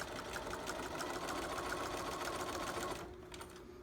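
A sewing machine stitches quilt binding with a fast, even mechanical whir and needle patter, close and steady, then winds down and quiets near the end as a short back stitch finishes.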